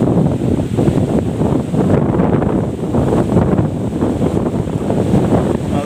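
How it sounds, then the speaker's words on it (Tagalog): Strong northeast monsoon wind roars through coconut trees along the coast, a loud continuous blustery rush with gusting swells and heavy buffeting on the microphone, no voices. "Kung naririnig nyo yung yung hangin, yun na yung puno ng nyug"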